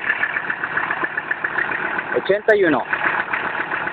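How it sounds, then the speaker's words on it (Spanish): A 1981 Mercedes-Benz Unimog 6x4 turbo diesel idles with a steady, fairly loud mid-frequency rumble, while someone speaks briefly over the engine noise partway through. "Mercedes-Benz Unimog Diesel, Turbo Diesel"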